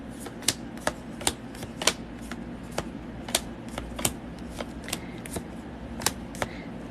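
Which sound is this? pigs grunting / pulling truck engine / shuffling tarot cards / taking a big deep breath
shuffling tarot cards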